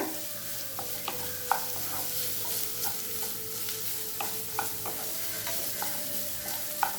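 Vegetables including capsicum sizzle and fry in a hot pan for gobi manchurian, with occasional scraping stirs of a utensil over the steady crackle.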